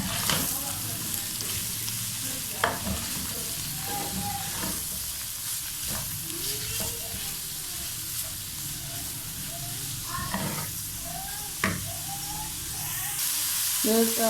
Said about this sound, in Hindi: वेजिटेबल्स को अच्छे से करेंगे फ्राई।